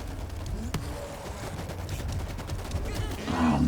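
Bursts of automatic gunfire echo through a tunnel fight in the World War Z video game, sharp cracks over a low rumbling bed, growing louder near the end.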